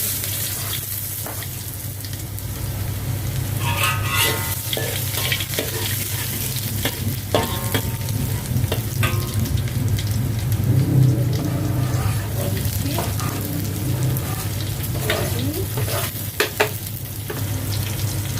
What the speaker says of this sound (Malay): Minyak dah panas. Goreng tumis bawang